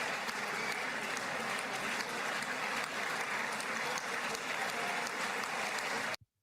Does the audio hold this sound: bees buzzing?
no